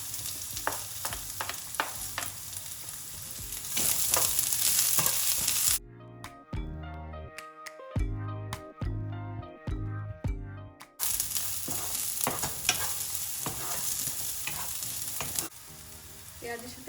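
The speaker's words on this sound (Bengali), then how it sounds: "রসুনটা হালকা ভাজা হয়ে এসছে, এর মধ্যে আমি এখন পেঁয়াজ বাকিটা দিয়ে দিচ্ছি," Garlic and onion sizzle and fry in a pan, a steady crackling hiss broken by a stretch of background music midway, with occasional stirring scrapes; close and fairly loud, no talking.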